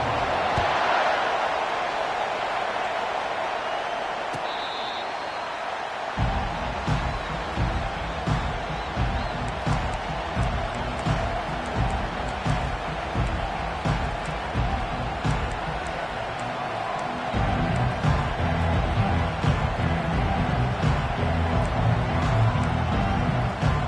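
Stadium crowd in the EA Sports College Football video game for Utah vs. Notre Dame, a sustained roar of cheering under play-by-play commentary, growing louder in the later part.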